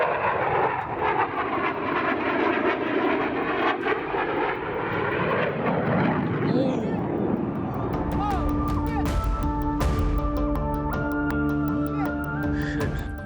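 Tejas fighter jet roaring overhead during an air show display, a loud sustained engine rush that later gives way to mixed tonal crowd and broadcast sounds with talk.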